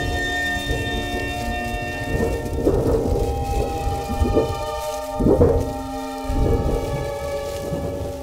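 Thunderstorm with low rumbling thunder rolling in several swells and steady rain hiss over a sustained musical drone, all fairly loud and continuous with no talking.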